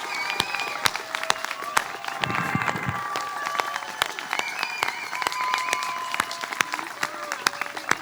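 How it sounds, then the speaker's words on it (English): Scattered claps ring out from guests at the Stanford International Relations diploma ceremony for the class of 2026. Individual sharp hand claps sound over a thin crowd murmur, with brief voices and a cheer mixed in. "Guests, give these guys one big final round of applause"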